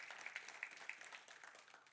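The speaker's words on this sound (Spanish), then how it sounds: "Un aplauso fuerte, mis queridos hermanos y hermanas" Faint applause from a church congregation, a soft continuous patter of many hands at a distance.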